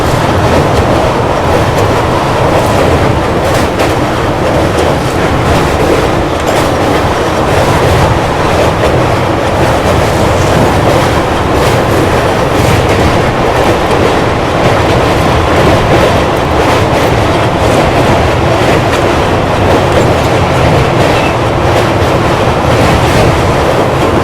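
A Gorakhpur–Anand Vihar weekly express train rumbles across the Garhmukteshwar bridge over the Ganga, heard from inside the coach as a loud, continuous roar with rapid rhythmic clatter of wheels throughout.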